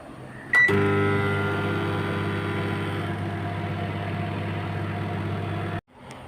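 An oven running with bananas baking inside gives a click as it starts, then a steady close hum for several seconds before it cuts off abruptly.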